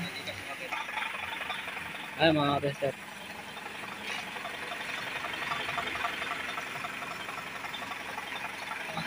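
An Isuzu 6UZ1 diesel engine idles steadily after EGR cleaning, a continuous even rumble with a brief louder clatter near the start, while someone talks over it.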